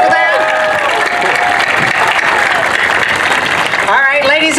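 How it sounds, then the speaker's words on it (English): Audience applause and some cheering at an outdoor groundbreaking ceremony for the Louisville City FC stadium, a loud, steady crowd of clapping that runs throughout, with a voice starting over it near the end. "Can we give them a round of applause for that?"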